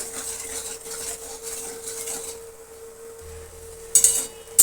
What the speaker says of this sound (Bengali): এবার এটা আমি কুচি কুচি করে ভুজিয়া মতন ভেজে নেবো